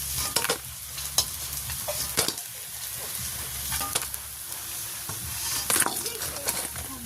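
Food frying until crisp in a pan over a village cooking fire, a continuous close sizzle with scraping stirring strokes throughout.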